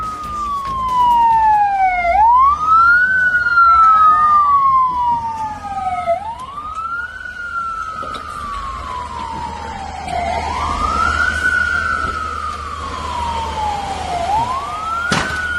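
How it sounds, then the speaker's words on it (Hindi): Air raid warning siren in Beersheba, Israel, during Iranian missile attacks, a loud wailing tone rising and falling in repeated slow cycles, sounding steadily with no voices. "इजराइल के कई शहरों में खतरे का सायरन बज रहा है"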